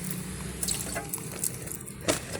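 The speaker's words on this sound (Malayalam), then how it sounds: "ഇതിലേക്ക് നമുക്ക് ഇച്ചിരി വെള്ളം ഒന്ന് കുടഞ്ഞു കൊടുത്താൽ മതി" Small handfuls of water are sprinkled onto a sack used for planting potatoes, producing soft scattered splashes and patters over a low, steady background hiss.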